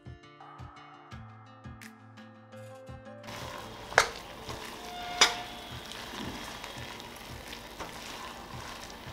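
Coconut burfi mixture with ghee, cardamom powder and gram flour is stirred in a pan over a low flame, giving a steady soft sizzle with scraping strokes and a couple of sharper clinks of the spoon against the pan.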